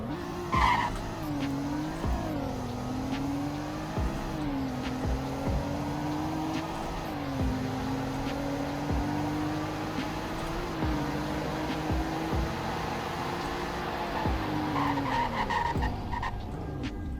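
A vehicle in the Greenville driving game runs a speed test, its engine holding a steady, loud droning tone that climbs and dips with throttle changes, with short tire squeals and clicks over it, no talking.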